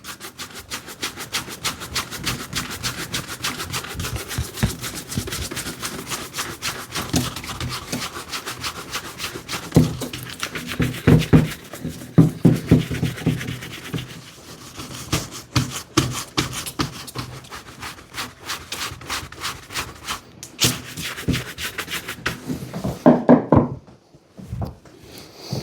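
A brush rubs back and forth over leather Loake shoes being restored, making fast rhythmic close-up scrubbing strokes in bursts that grow heavier midway, then a pause near the end.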